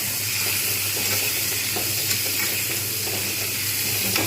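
Spice paste of whole cumin, poppy seed, mustard, coriander leaves and onion sizzles steadily in a pan with fried potatoes and long beans, a loud continuous hiss with no talk.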